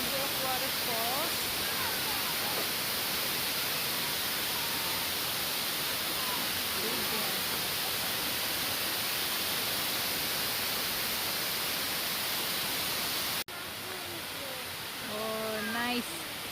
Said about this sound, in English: Oh, nice waterfalls.